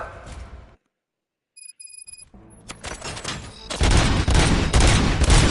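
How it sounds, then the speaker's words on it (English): Gunfire erupts in a Robocop film scene: after a brief silence and a few electronic beeps, rapid shots build into a loud, dense fusillade that fills the final seconds. "Gunshots?"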